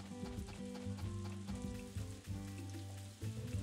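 Rain falling in the farming video game Story of Seasons: A Wonderful Life, a steady dense patter under a looping game music track, with no speech.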